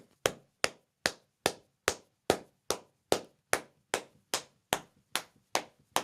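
Sharp single claps repeat in a steady, evenly spaced rhythm, about two per second, close and crisp with no talk.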